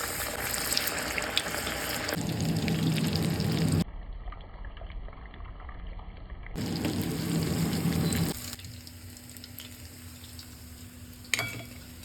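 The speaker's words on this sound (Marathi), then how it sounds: "आपलं चिकन जे आहे ते आपल्याला लो मीडियम हीटवरती फ्राय करायचं आहे" Chicken 65 sizzling in a pan over low-medium heat, a loud continuous crackle that drops away twice, with quieter stretches between bursts of frying.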